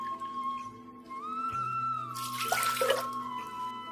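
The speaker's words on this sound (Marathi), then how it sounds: "कुकरमध्ये 1 कप पाणी घालूया" Water from a cup pours into a pressure cooker while a potato cheese soup is being made, a short splashing burst of about a second in the middle over quiet kitchen hum.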